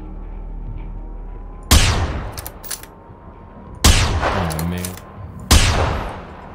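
Three sharp, loud gunshots ring out in the Generation Zero shooter at Rusksele Farm, each a sudden blast with a decaying echo, spaced a couple of seconds apart over quiet background.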